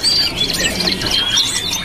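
Two laughingthrushes (poksay) at a bird market kiosk give busy squawking and chirping calls, loud and close, with a dense, continuous bright chatter and no talking.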